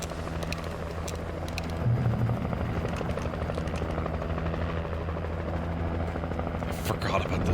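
Helicopter in the video game Alan Wake Remastered, a steady whirring rotor drone that swells slightly partway through, with people talking over it.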